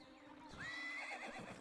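A horse whinnies in the Minecraft Legends video game, a single rising and falling neigh over steady background game sound, moderately loud.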